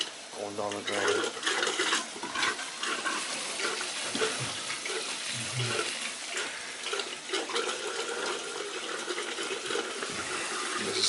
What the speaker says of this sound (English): You hear all the air coming out, going down the drain.